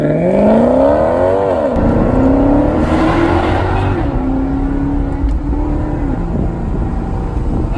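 A Maserati GranTurismo Trofeo's Nettuno V6 engine revs hard, pitch sweeping up and dropping between shifts, then settles into a steady loud drone close by.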